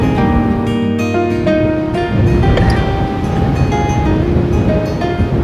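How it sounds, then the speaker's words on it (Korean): Sea waves churn under strong wind at a temple on the Korean coast, a loud, constant rush of water and gusts with tonal engine-like hum layered over it, no clear speech. "오늘같이 바람 불 적에는 파도가 일고 그렇지 않습니까?"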